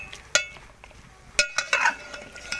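A spoon clinks and scrapes against a karahi as tomatoes are stirred and mixed in beef karahi, with a few sharp metallic knocks spread apart and soft wet squelching and faint sizzling between them.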